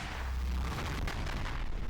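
Summoned orbs slam down and explode in VRChat, producing a loud, continuous rumbling barrage of booming blasts with crackling bursts that lasts the whole moment.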